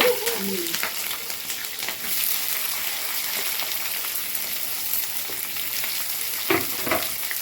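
Curry leaves and green chillies frying in hot oil for bachelor-style shavige uppittu, a steady close crackling sizzle throughout with a few louder pops near the end and no talking.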